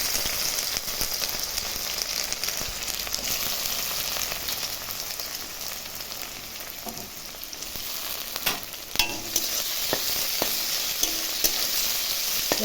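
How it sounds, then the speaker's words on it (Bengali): Sliced onions frying in hot oil with cumin, cinnamon, cardamom and cloves in a pan, a loud continuous sizzle with occasional stirring clicks and scrapes throughout. "পেঁয়াজটাকে ভেজে নেব।"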